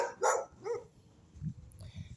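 A dog barks a few times in short, sharp bursts close by, followed by lower, softer woofs, with quiet gaps between them and no talking.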